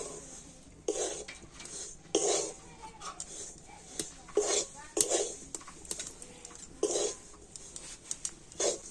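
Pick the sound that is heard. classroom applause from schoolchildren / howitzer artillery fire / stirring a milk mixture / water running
stirring a milk mixture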